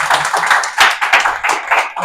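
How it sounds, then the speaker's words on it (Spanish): Audience applause at the close of an academic talk on replicability in science, a dense patter of clapping hands pulsing in loud waves for about two seconds, no voices over it. "démosle un fuerte aplauso nuevamente."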